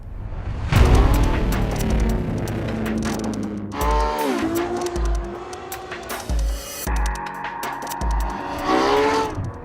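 A 2014 Ferrari F12 Berlinetta laps Laguna Seca racetrack. Its engine revs hard and loud and rises through the gears, with repeated bursts of acceleration, shifts and downshifts over the course of the lap.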